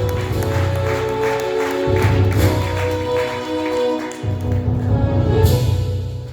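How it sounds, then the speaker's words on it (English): Audience applause and cheering at a hip hop jam session as a performer is introduced, busy clapping mixed with crowd noise and steady background music, moderately loud. "a round of applause for my dear friend, Jacob Gavriel."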